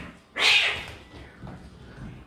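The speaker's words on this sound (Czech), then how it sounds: "Teď tady ukážu malý fight kočičí." Two cats, sisters, scuffle at home while pastries bake, and one lets out a single sharp, loud yowl near the microphone, followed by quieter rustling and movement.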